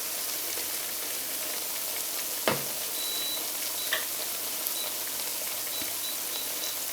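Gluten-free churro dough fries in hot oil with a steady, dense sizzle, broken by a few brief clicks and taps of a utensil, with no talk.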